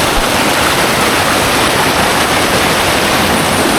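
Fast-flowing mountain river upstream on the Kalimadiun on the slopes of Gunung Wilis, a loud, close, unbroken rush of turbulent water filling the whole scene.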